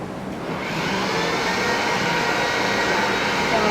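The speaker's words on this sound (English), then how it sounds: "So using your heat gun, you heat up the front and back side." A heat gun warming craft foam for a calla lily flower starts up and settles into a steady, loud, close blowing whoosh with a faint whine that runs throughout.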